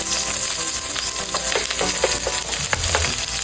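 Chopped onions sizzle steadily in a hot pan for spaghetti, with a spoon scraping and stirring through them in several quick strokes; the frying hiss is close and continuous.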